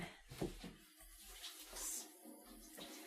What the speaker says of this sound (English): Let me rinse my hands off now.